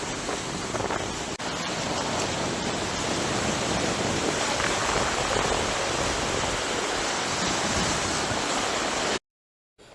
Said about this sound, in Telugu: రోడ్డు పూర్తిగా కోసుకుపోయి వరద ప్రవహిస్తోంది